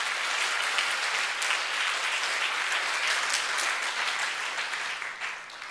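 A congregation at a prayer service claps together, producing a thick, continuous wash of applause that stays loud and steady before easing slightly at the end.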